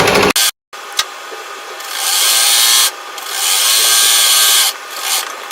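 A sewing machine stitches a salwar suit panel in three bursts of steady, whirring running separated by brief pauses, close by and loud, with a few clicks at the start.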